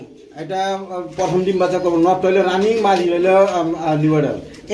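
Pigeons coo close by in low, rolling, throaty calls, a few long warbling phrases one after another.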